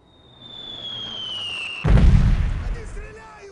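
An artillery strike in the Delta Force 2 video game sends a descending whistle into a sudden loud booming explosion that rumbles and fades, with a voice speaking over it.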